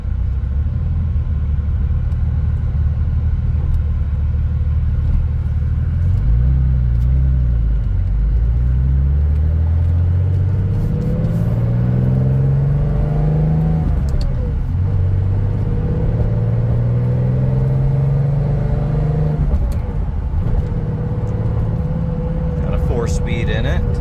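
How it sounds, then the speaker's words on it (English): A 1986 Porsche 911 Turbo heard from inside while driving, its engine and exhaust rumbling loudly with rising and falling pitch through several gear changes as it accelerates. "I can definitely hear that exhaust just kind of crackling"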